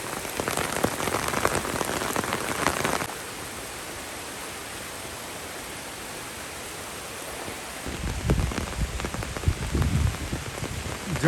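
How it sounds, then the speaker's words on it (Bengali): Heavy rain pours down steadily in a village, a dense close hiss of drops drumming on surfaces that eases briefly midway before swelling loud again. "কত বৃষ্টি শুরু হয়ে গেল আজকে।"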